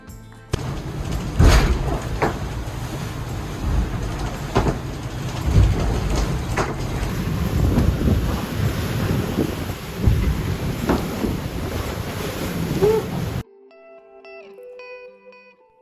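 Strong wind and waves aboard an ORC 57 sailing yacht racing through choppy Aegean Sea, loud rushing gusts and repeated crashing splashes against the hull, ending abruptly in quiet music.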